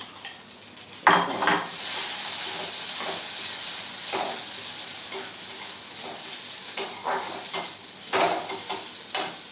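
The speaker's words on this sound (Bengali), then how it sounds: "এটাকে আগে একটু ভেজে নিই" Food fries in a pan, a soft sizzle running beneath repeated metallic scrapes and clinks of a utensil stirring against the cookware, the strokes coming in irregular bursts.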